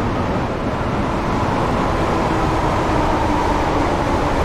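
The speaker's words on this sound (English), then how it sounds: "Look at that, I'm overtaking a train." Train Sim World 3 on the Great Western Railway, passing another train: a loud, continuous rail rumble with a steady roar and no voices.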